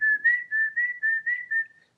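A person whistles to racing pigeons at a club show, producing a clear steady run of about seven short pulsing whistle notes, close and loud, with no talking.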